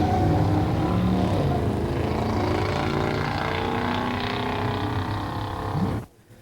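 A 1970 Cuda 440 six-pack automatic and a 1969 Cougar Eliminator 428 SCJ four-speed at a pure stock drag race, their engines roaring loudly and steadily as they run down the strip, then dropping away abruptly at the end.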